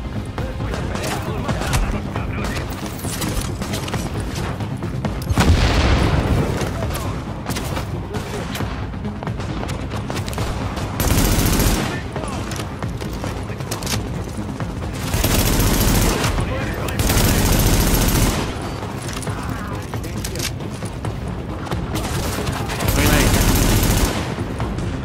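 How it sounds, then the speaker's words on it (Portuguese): Heavy bursts of rapid gunfire and explosions from The Division beta video game, loud and sustained, with intermittent surges, and a voice speaking occasionally underneath. "É muito tiro, mano."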